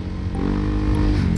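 Honda PCX 160 scooter engine with a modified 12-gram standard pulley, running in stop-and-go riding, a steady close engine hum that rises slightly in pitch, with no roar.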